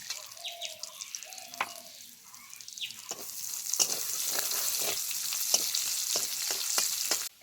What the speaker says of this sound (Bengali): এবার তেলের ওপর ফোড়ন দেবো। ফোড়নে দেবো গোটা জিরে, গোটা গরম মশলা আর শুকনো লঙ্কা।